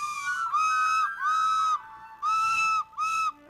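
Someone plays a recorder badly, sounding a string of wobbly, breathy held notes in short separate bursts with uneven pitch and gaps between phrases, close and loud.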